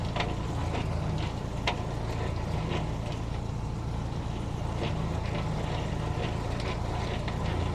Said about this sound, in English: you're going to be looking through here at your winch as you're pulling out